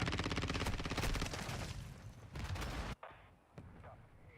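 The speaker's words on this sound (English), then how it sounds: "Taking fire." Dense bursts of automatic gunfire and explosions from a video game battle, loud and close, with a sudden drop around three seconds followed by scattered, quieter shots and a sharp late crack.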